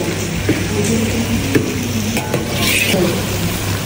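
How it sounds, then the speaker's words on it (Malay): Low sizzling as garlic, ginger, black pepper and cashews fry in a pan, with occasional scraping and clinks of a utensil stirring, steady and close, no talking. "Kita nak goreng sampai dia lecuh"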